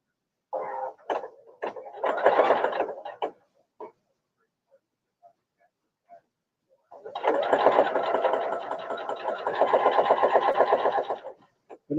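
A sewing machine runs a guide-assisted seam through clear vinyl for a child's tote bag: one short burst of stitching, a pause with faint taps, then a longer steady run, close and fairly loud.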